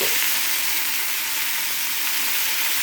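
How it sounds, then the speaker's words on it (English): Hamburger meat fries in a pan, giving a loud, steady, close sizzle that never lets up while a spatula cuts it into slices. No one speaks. "I take the spatula and I basically just cut the meat into slices."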